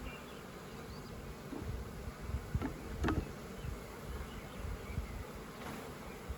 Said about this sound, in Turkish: Bak şimdi silkeliyorum. Heh, tarlacı varsa zaten uçacaktır.